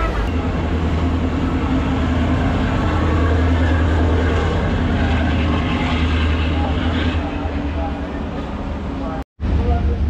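A local train rumbles near a station on the Siliguri line, a loud continuous low rolling drone with rattling carriage noise that holds steady before a brief dropout near the end.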